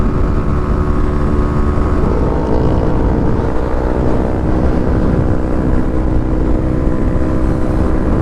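Honda Grom motorcycle cruising at highway speed around 66, a steady loud engine drone with heavy wind rush throughout, no talking.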